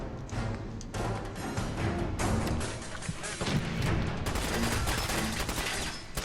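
Rapid, dense gunfire in the video game Fallout 4, loud and close, with bursts of repeated shots and heavy booms continuing for several seconds, broken by brief pauses.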